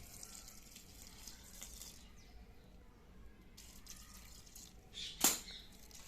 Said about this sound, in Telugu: కొన్ని వాటర్ వేసుకుందాం